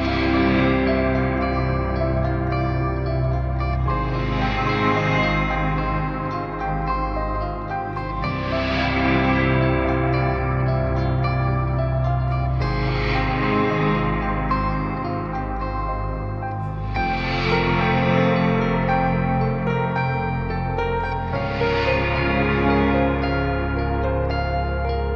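Guitar chords washed in a long-decay reverb, each strum struck roughly every four seconds and blooming into a dense, sustained tail that overlaps the next, forming a continuous ambient wall of sound with no voices.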